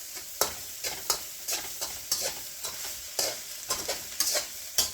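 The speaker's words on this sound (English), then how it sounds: "Get a good fry on our rice." Rice fries in a pan with a steady sizzle, broken by repeated scraping stirs of a spatula that come as sharp bursts about every half second, close and clear, with no talking.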